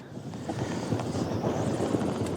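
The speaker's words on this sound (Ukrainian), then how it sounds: "вітер шалений" Strong wind buffets the microphone while spin fishing outdoors, a continuous, loud roaring rumble with gusty swells, nobody speaking.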